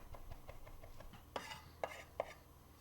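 A knife works garlic on a cutting board, a few faint soft taps followed by three sharper, louder chops spaced about half a second apart in a quiet kitchen.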